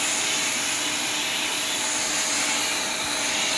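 A vacuum cleaner runs close by in a steady, loud, unbroken drone with a high whine, as a Highland Lynx cat is vacuumed.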